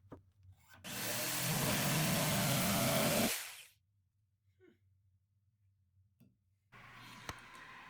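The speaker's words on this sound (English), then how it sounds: "After a little bit of sanding," A power sander works on the curved surface of an eight-foot wooden table, making a loud, steady rasping burst of about two and a half seconds, then quiet with faint scrapes and a brief return of rough noise.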